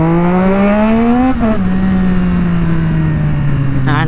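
Triumph Street Triple motorcycle, running loud after a throttle body clean, revs up close with a rising whine, drops back to a steady high drone that slowly sags, then blips sharply again at the end.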